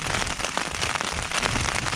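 Heavy rain drums steadily on a Hilleberg Soulo tent during a hail storm with icy winds, a dense, constant patter of close drops and sharper hits lasting the whole stretch with no voices.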